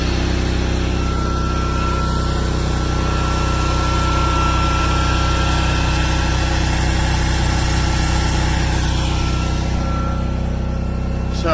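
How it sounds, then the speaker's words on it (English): A portable generator runs steadily at close range, a loud, unbroken low engine hum with a faint high tonal whine, no voices and no change in pace. "It's running on my generator now"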